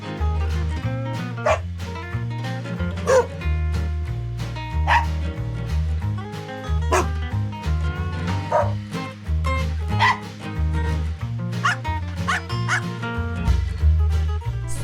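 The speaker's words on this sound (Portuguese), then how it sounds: "ao top de 8 latidos nós vamos começar!" Dog barks and yips ring out in a series over a steady musical backing track, about eight distinct barks spaced through the passage.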